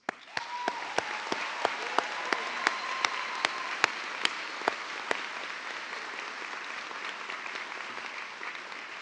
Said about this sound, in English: will you all join me in an opening round of celebratory applause?